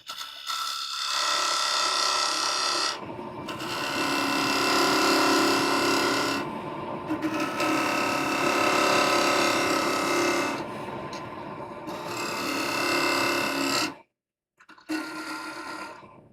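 Hand sawing a tenon in wood for a lidded box, a steady close rasping stroke that runs in long bursts with brief pauses between, then stops near the end before a short final burst.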